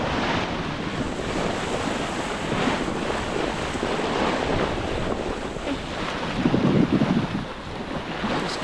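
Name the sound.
wind while sailing a boat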